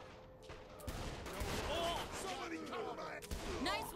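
Gunfire in the video game Saints Row the Third, a rapid string of shots and impacts mixed with game voices talking over the action, moderately loud and continuous.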